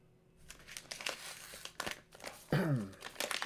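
A taped mail package being torn open and unwrapped, with close crinkling of plastic or paper, sharp ripping bursts of tape, and a squeaky stretching tear near the end.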